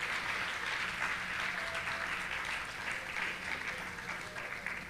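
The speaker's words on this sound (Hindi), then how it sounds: "इनके लिए तालियां बजवाना चाहता हूं कि" Audience applause at an Urdu poetry gathering, a continuous, fairly quiet patter of many hands clapping that holds steady for the whole stretch without any voices over it.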